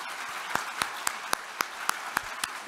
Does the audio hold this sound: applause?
yes